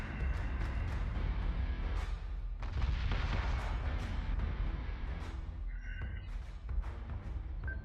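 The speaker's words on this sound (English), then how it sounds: "Missiles incoming!" Missiles fire and explode in a Battlestar Galactica: Deadlock space battle, a continuous heavy rumble of booms and blasts with a few higher electronic tones near the end, loud and dense throughout.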